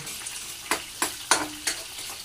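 Garlic and tomato sauté in a hot pan, a steady close sizzle broken by several sharp bursts as the pan is stirred, with no talking.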